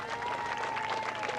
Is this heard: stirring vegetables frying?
no